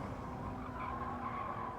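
Tires of a Toyota Yaris squeal as it slides through a corner in a four-wheel drift in a racing video game, a loud, continuous skid lasting under two seconds over the engine drone.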